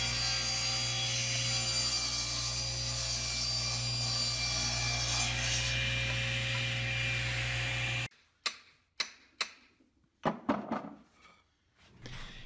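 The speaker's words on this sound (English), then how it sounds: "I had a small piece of 6/4 walnut, so I thought I would go ahead and cut a square out of it to make my hammer handle width." Sawing a square from a small piece of 6/4 walnut for a hammer handle: a steady, loud saw drone for about eight seconds, then a handful of sharp knocks and clunks as wood is handled nearby.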